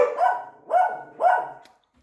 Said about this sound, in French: Le chien aboie.